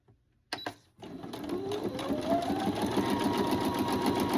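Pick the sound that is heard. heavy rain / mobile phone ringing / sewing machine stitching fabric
sewing machine stitching fabric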